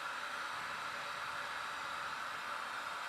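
A glassworking torch flame turned up stronger while shaping a glass scent bottle, a steady, even hissing roar with no breaks.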